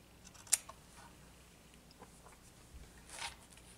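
A single sharp snip of wire cutters trimming coil leads on a Dead Rabbit rebuildable dripping atomizer, close and crisp, followed by faint handling noises and a softer second click near the end.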